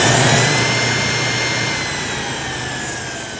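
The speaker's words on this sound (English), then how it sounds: "should be reflecting the alternator output as soon as we turn on the motor as well" An electric motor spins a Mando alternator from a Bobcat 853 engine on a test bench, producing a loud, steady whine with a low hum that eases slightly in volume as it runs.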